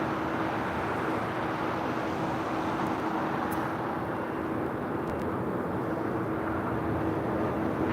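Delta Airbus A350-900 taxiing on taxiway Bravo at LAX, a steady distant jet engine drone with a constant whine, even and unbroken throughout.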